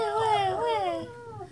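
Three-week-old German Shepherd puppies cry with a close, high, wavering whimper that rises and falls over a second and a half, with a faint voice underneath.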